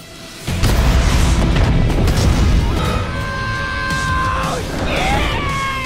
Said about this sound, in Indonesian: Sementara itu pesawat berhasil diledakkan